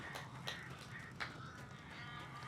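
Crows caw repeatedly in the video game Alan Wake Remastered, a few sharp calls standing out over a steady ambient game background, with no talking.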